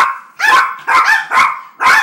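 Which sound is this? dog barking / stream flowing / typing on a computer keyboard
dog barking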